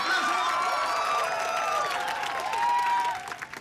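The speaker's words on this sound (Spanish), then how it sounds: "¡Aplausos!" Studio audience applause and cheering at a televised game show, loud and continuous for about three seconds with shrill whoops riding over the clapping before it thins out at the end.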